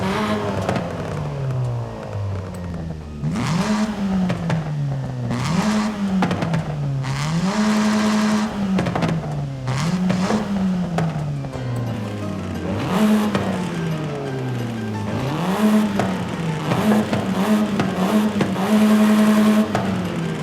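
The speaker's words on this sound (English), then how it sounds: "all exhaust options sound like there's bearing in the exhaust" A racing car engine in Forza Horizon 5 revs hard, climbing in pitch and dropping at each gear shift, again and again, with a raspy, buzzing exhaust note throughout.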